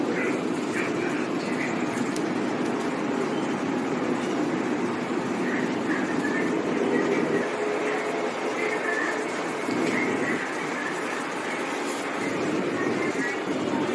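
A Bangkok MRT Blue Line train stands at Charan 13 station, its steady interior hum and rumble continuous throughout, with a faint announcement-like voice and murmur in the background.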